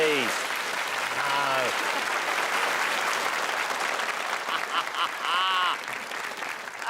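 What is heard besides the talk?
studio audience round of applause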